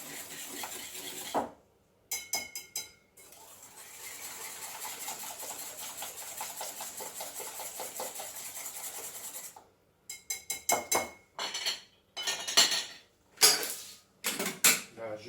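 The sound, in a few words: whisking eggs with sugar in a bowl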